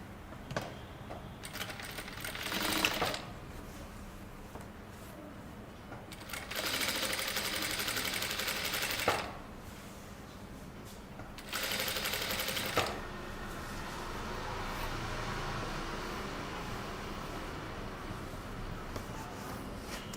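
A sewing machine top-stitches a kurta lining in several bursts of rapid stitching, separated by quieter pauses, close and moderately loud.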